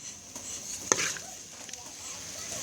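Cobra meat and spices get stir-fried in a pan with soft, steady scraping and stirring, a faint sizzle, and an occasional light clink of utensil on metal, heard up close and fairly quiet.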